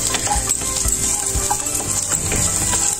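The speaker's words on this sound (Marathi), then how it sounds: "तर त्यामध्ये आपण भिजून घेतलेले बदाम बारीक ओवे चिरून घेतलेले आहेत, ते घालूया। थोडेसे असे परतून घेऊया।" Soaked, finely chopped almonds sautéed and stirred in a pan while making alivachi kheer, with a soft steady sizzle and scattered scraping stirs of a spoon, close and alone.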